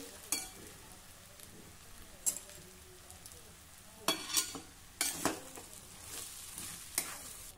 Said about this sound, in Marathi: आता मध्यम आचेवर आपल्याला हे असं सतत परतत राहायचं आहे।